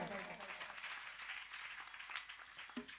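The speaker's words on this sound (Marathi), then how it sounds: "तर एकदा श्यामजींसाठी जोरदार टाळ्या झाल्या पाहिजे." An audience at a devotional music performance claps steadily, a soft, even patter of many hands that sounds somewhat distant and continues for a few seconds.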